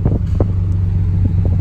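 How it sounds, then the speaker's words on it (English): Air conditioning blowing inside a Nissan GTR, a steady low whooshing rumble of airflow with a constant hum and a few soft bumps and flaps throughout. "it's blowing pretty cool air, which means the aircon is good to go"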